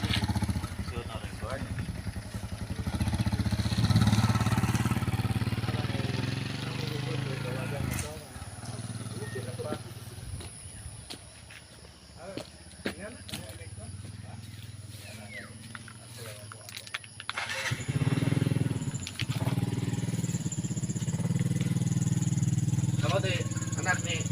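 A motorcycle engine drones steadily nearby for a long stretch, with people talking loudly over it throughout.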